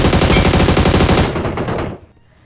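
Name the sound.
gunfire in the video game BGMI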